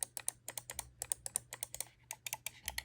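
Rapid, crisp clicking of a Razer Viper V2 Pro gaming mouse's optical switches, dozens of close, light clicks in quick uneven bursts with a short pause midway, no voices.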